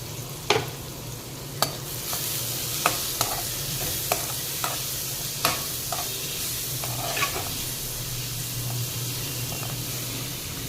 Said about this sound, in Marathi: पण मी इथे हा कांदा अगदी थोडासा परतून घेत आहे